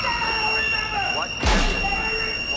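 An eerie, shrill Shadow sound effect from Babylon 5 sustains through the clip, with a sudden burst partway through, while a voice briefly speaks over it.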